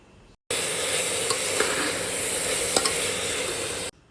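Mixed vegetables fry with salt for a dal, a loud steady sizzle starting abruptly and cutting off near the end, with faint stirring clicks and no voices.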